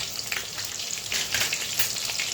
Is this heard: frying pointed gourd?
yes